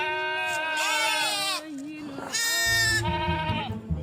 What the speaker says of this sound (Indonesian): ada kambing ya?